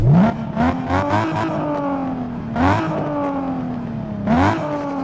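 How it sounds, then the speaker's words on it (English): Engine of a hybrid vehicle, switched on by manual override, is revved three times: each rev climbs sharply and then winds down slowly, loud and close with no talk over it. "Engine manual override on, gonna rev it then turn manual override off."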